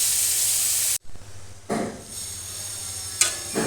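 Water hits a hot pan of potatoes with ginger paste, coriander paste, green chilli and tomato, giving a loud hiss that cuts off sharply, then quieter sizzling bursts and a clink of utensils.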